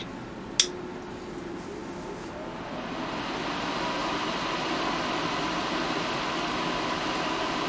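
A Kotto fume extractor plugged into mains power runs with a steady, moderate whooshing airflow, heard over an air conditioning system droning in the room, after a brief click at the start.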